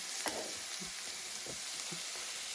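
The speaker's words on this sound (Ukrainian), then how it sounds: "Капусту викладаю до цибульки і тримаю на помірному вогні. Час від часу помішую" Steady, soft sizzling of cabbage and onion frying in a pan over moderate heat, with occasional light scrapes and clicks of stirring.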